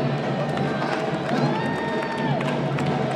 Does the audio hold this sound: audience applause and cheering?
yes